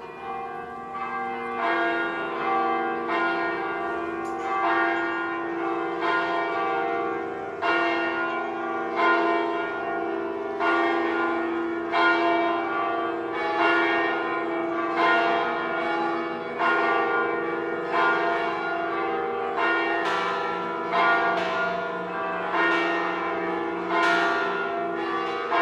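Church bells from a bell project ring steadily for the whole stretch, with overlapping strikes in a dense, resonant peal that carries a continuous wash of ringing tones.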